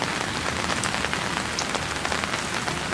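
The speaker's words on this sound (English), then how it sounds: "It's raining, and I'm in the rain, shooting the rain." Heavy rain pours steadily outdoors, a loud dense hiss with scattered drop patter close by, continuous throughout with no talking.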